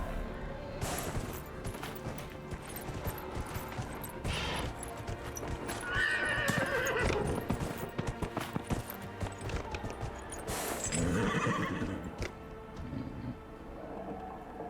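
A horse in Dragon Age: Inquisition whinnies loudly while its hooves clip-clop steadily during a ride, with a second neigh later and game ambience underneath.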